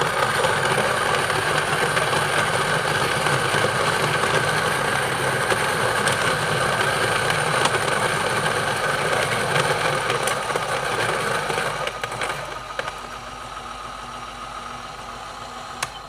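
A Niche Zero coffee grinder grinding beans, giving a steady, dense whirring grind for about twelve seconds before it drops to a quieter, thinner hum as the beans run out.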